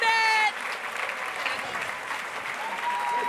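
A Revolt Summit hip hop audience claps and cheers in a steady, dense wash of applause with crowd noise, which follows a brief stretch of music-like tones at the start.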